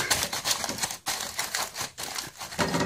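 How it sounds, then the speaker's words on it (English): Aluminium foil crinkled and pressed as it is wrapped around clusters of garlic bulbs for a black garlic maker, loud close rustling in quick bursts with brief pauses. "you put another piece of foil on like that"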